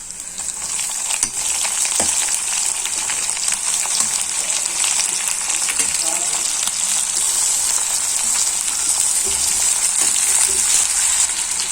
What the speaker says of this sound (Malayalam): ഇഞ്ചി, വെളുത്തുള്ളി, പെരിഞ്ചീരകം മൂത്ത് വന്നിട്ട് ഇതിലേക്ക് നമുക്ക് സവാള ഇട്ട് കൊടുക്കാം